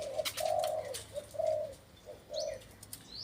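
A red-billed wild mountain dove coos in a series of soft, hollow notes repeated in short bursts, fairly close against a quiet outdoor background, with faint chirps from other birds.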